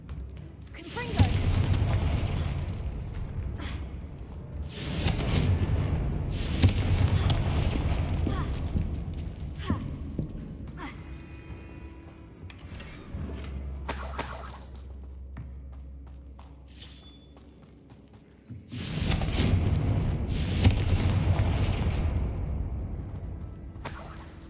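Loud blasting-spell explosions in the video game Hogwarts Legacy: booming bursts near 1, 6, 13 and 19 seconds, each followed by sustained rumbling debris and crackle, with a quieter stretch of low hum between blasts.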